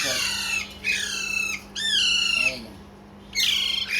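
Alexandrine parakeet chicks give loud, harsh squawks close by, in four rising bursts separated by short pauses.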